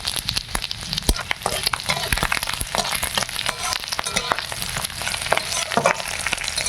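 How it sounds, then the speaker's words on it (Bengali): Panch phoron spices crackle in hot oil alongside pieces of fried fish, a dense, steady sizzle with stirring scrapes and small pops, close and loud throughout, with no voices. "এবারে সাদলানোর জন্য পাঁচ ফোড়ন দিয়ে দিলাম"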